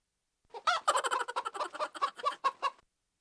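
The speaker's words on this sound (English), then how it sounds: "Did you just have a chicken and a chipmunk laughing at me?" Comic chicken clucking sound effect, a quick loud run of rhythmic clucks and gobble-like squawks lasting a couple of seconds, alone with no voices.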